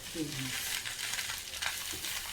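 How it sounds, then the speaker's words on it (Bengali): Fish fries on a banana leaf coated with mustard oil, salt and turmeric, giving a steady close sizzle that continues through the whole moment, with a brief faint voice near the start. "কলাটার পাতার উপরে মাছ দিয়ে ভাজা"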